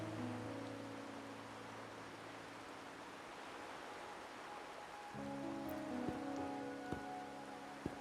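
Steady rain falls in the Wuthering Waves video game, a constant soft hiss with a low background hum and a few faint drips or taps near the end.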